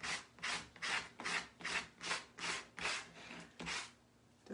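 Rhythmic scraping strokes, about ten even back-and-forth rubs of an abrasive sponge on wood, close and steady, with no talking.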